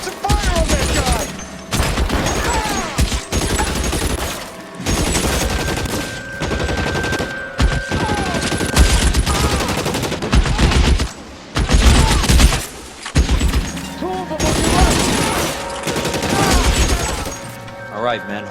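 Gunfire in the L.A. Noire video game, dense volleys of shots and loud bangs running almost continuously, layered under shouted character dialogue.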